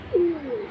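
Pigeons at a sale in Keraniganj give a short, low, soft coo of about two rising and falling notes, close and fairly clear with slight background noise.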